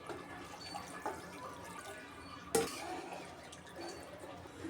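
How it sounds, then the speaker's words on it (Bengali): Water is poured into a pan of baila fish coated with tomato and spices, a faint trickle and splash with one sharper pour midway, over a quiet background. "আমি যে ভালো করে মাখিয়ে নিলাম এখন আমি পানি দিই"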